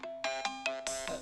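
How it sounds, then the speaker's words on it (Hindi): Telephone ringtone chiming in a domestic scene, a bright electronic melody of short repeated tones, clear and close with no talk over it. "चाचा जी, आपका फोन।"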